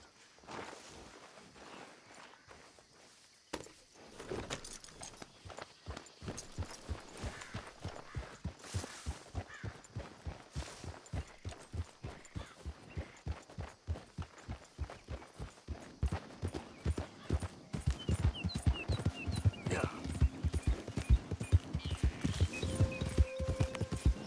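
Horse hooves in Red Dead Redemption 2, starting faint then settling into a steady, close clip-clop rhythm that grows louder and quicker toward the end.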